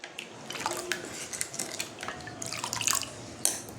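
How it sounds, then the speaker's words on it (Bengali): Gondhoraj lemon juice is squeezed into a lentil mixture, giving soft wet drips and squelches close by, with light clinks of a utensil against a bowl. "এবার আমি এর মধ্যে দিয়ে দেবো এই গন্ধরাজ লেবুর রস, চিপে দিয়ে দিলাম।"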